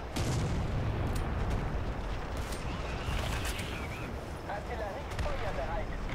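Heavy artillery fire rumbles in a War Thunder tank battle featuring a German Pz. II C, a dense continuous roar with distant booms, while a voice talks over it.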